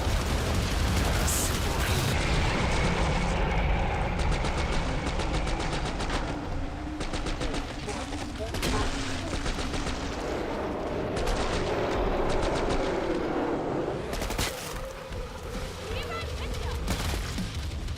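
Rapid gunfire from the video game Killing Floor 3, near-continuous bursts and automatic volleys layered with game effects, loud and dense throughout, with voices talking over the shooting.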